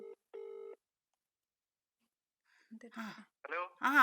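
A phone call rings out with two short electronic ringback tones, then a pause, before a voice answers and begins talking close to the mic.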